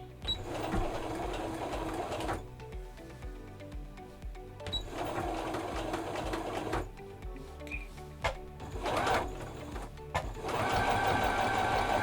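A sewing machine stitches a waterproof, reusable DIY face mask in several bursts of rapid, steady mechanical chatter with short pauses between runs, close and fairly loud, with no talk over it.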